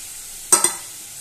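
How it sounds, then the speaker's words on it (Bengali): A paste of mustard, poppy seed, dried and green chilli hits hot oil, giving two quick sharp sizzling splashes in close succession, near and fairly loud against a quiet background. "এবার যে সর্ষে, পোস্ত আর শুকনো লঙ্কা, কাঁচা লঙ্কা যে বাটনাটা সেটা আমি দিয়ে দিলাম।"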